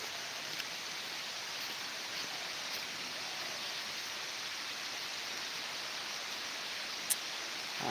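Steady rain falling beside a river, a soft even hiss that runs unbroken and fairly faint, with a brief tap near the end and no voices.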